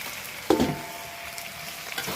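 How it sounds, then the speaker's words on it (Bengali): Meat is tipped into a hot pan and being stirred and browned, with a sudden sizzling burst followed by a steady crackle and hiss, close and moderately loud, no talking. "এখন মাংসগুলো সব ঢেলে দিলাম"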